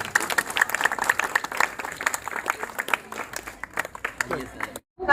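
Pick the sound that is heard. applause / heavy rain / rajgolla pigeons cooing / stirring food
applause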